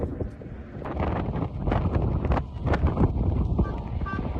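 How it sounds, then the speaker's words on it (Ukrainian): Strong wind near Big Ben in London buffets the microphone with a loud, continuous rumbling roar that surges in gusts. Faint crowd and voice sounds lie underneath. "всіх просто вітром зносив"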